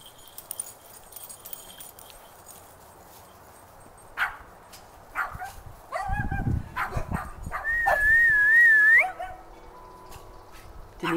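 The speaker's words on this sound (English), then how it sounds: "That's your mother you're barking at, girl." A dog gives a few sharp barks and yips amid quiet outdoor rustling, ending in a rising whine-like whimper; the sounds are moderately close.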